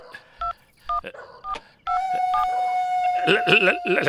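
Several short mobile phone keypad tones beep in quick succession, then a long steady ringing tone, followed by a voice speaking.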